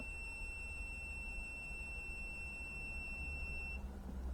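An AFERIY P210 portable power station (2400 W, 2048 Wh) gives a thin, steady high electronic tone while its button is held, one continuous beep lasting several seconds, then it stops abruptly over a faint room hum.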